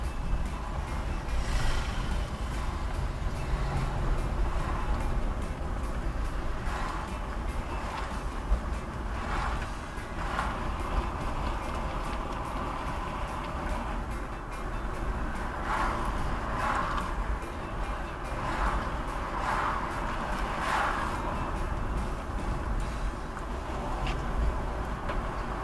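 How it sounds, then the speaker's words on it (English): Heavy road traffic on the South Coast Highway in St. Thomas, Jamaica, a constant dense roar of truck and car engines heard from inside a vehicle, with occasional higher tonal squeals and beeps rising over the steady rumble. "Whole heap of traffic, yes, sir."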